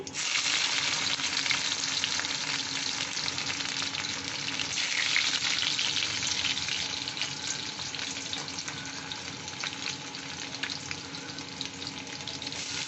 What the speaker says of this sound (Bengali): এবার এইখান থেকে রসুন দিচ্ছি